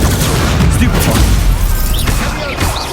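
Stupefy spell cast in the Hogwarts Legacy game, a dense, loud burst of booming impacts and crackling blasts filling the moment, with a voice partly mixed in.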